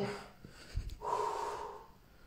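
A dog sniffs a shoe up close, snorting in short, breathy bursts, a brief huff followed by a longer snuffling exhale, with no talking.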